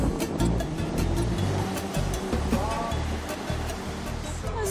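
Pacific Ocean waves break and wash steadily along the shore at Oahu, Hawaii, making a continuous broad roar that swells and eases without any talk.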